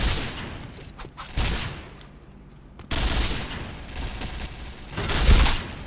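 Bursts of automatic gunfire in the shooter game Point Blank, with rapid close volleys separated by short lulls and a loud final crack near the end.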